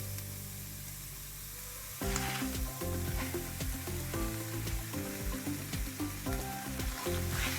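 Spinach and mushrooms sizzle in a frying pan for a mini quiche, a soft hiss that swells into louder, steady crackling frying with stirring scrapes once the greens hit the hot pan.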